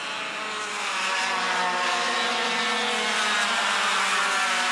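Field of Yamaha 100cc junior racing karts screaming past at a national sprint championship, a loud, buzzing, high-revving engine drone that swells as the pack nears and holds steady.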